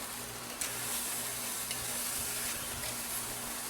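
Pork kabobs on a grill sizzle steadily with a broad, even crackle, a few soft clunks marking the skewers being turned over, close and moderately quiet with no voices.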